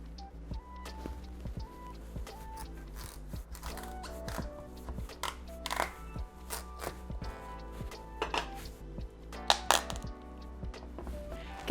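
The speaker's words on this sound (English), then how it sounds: "I'm gonna take my squash and first cut it in half." A knife cuts a honey nut squash in half on a board, giving a series of close, dull thunks and taps over steady background music.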